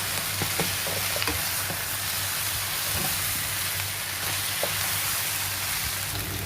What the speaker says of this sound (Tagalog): Fry the oxtail.